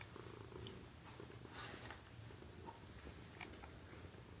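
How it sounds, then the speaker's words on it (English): A pet cat purrs continuously and close, with faint ticking licks as it licks painter's tape, low and steady with no talk. "Aggressively purring and licking tape, you know."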